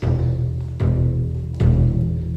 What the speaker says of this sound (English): So this is called a frame drum.